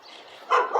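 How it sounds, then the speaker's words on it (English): A dog gives a short bark-like yelp, close and fairly loud, after a moment of low background noise. "That's the dog barking."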